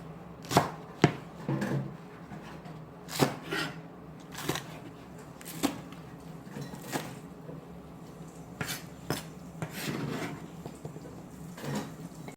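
Beef being chopped into large 4 cm chunks on a cutting board, a series of sharp, irregular knife thuds up close, about a dozen strikes spread unevenly with brief pauses between them.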